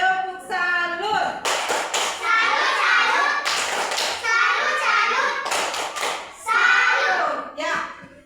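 Children in a classroom doing a rhythmic salute clap, bursts of patterned hand claps and taps mixed with their chanting voices, loud and close with short pauses between phrases.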